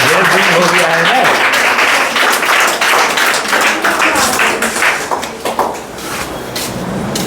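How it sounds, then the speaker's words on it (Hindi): A class of students applauds a fellow student called up for a Class 12 Hindi poetry test, with loud, dense clapping that fills the room and fades slightly toward the end, voices mixed in. "ताली बजाओ भाई"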